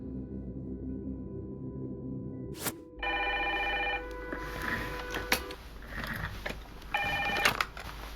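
A telephone in a police chief's office rings in repeated electronic bursts after a brief muffled sound, with a short pause between rings and a faint clunk.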